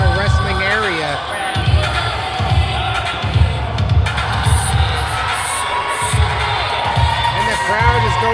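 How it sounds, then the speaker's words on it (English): A wrestling crowd at a New Age Wrestling professional event cheers and shouts loudly and continuously, with heavy rhythmic thumps and an announcer talking over the roar. "the crowd is going nuts"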